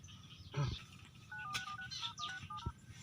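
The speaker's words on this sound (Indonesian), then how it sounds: "Telepon si Saben gitu" Telephone dialing tones, a quick run of short beeps from a phone keypad, faint and close, with a few thumps and rustles around them.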